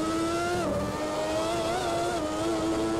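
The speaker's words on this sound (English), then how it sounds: "lovely wavering engine sound as he crests the hill and goes out and around the final corner" A Ferrari single-seater race car engine in a racing video game, a loud, continuous high-revving drone whose pitch wavers up and down as the car crests a hill and rounds a corner.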